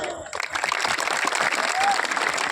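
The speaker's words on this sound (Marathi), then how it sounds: "एकदा वडगावच्या स्वाभिमानी लोकांसाठी टाळ्या" A rally crowd in Vadgaon Dhok applauding the people of Vadgaon, clapping that swells quickly to a steady roar with some voices mixed in.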